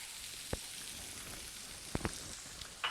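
Onions and peppers frying in a pan, a faint steady sizzle broken by a few sharp clicks and pops, heard alone without talk.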